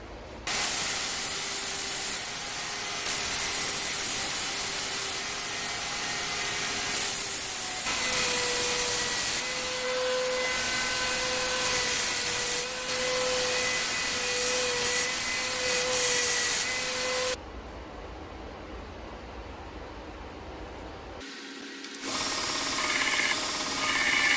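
Steady loud whirring of a power sander grinding a micarta epoxy knife handle, continuous and close, with a brief drop in tone near the end.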